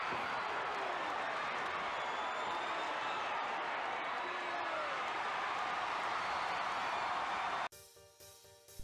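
A wrestling arena crowd makes a steady, dense roar of cheering that runs for several seconds and then cuts off abruptly.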